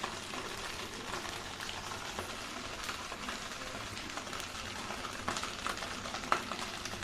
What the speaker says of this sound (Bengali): নিচের যেটুকু ভাজা হয়নি সেটুকু আস্তে আস্তে ভেজে নেব